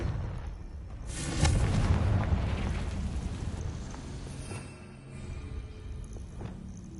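A booming spell blast in a video game swells in a loud burst of rumbling and crackling, then trails off into a roaring low rumble that lingers for several seconds.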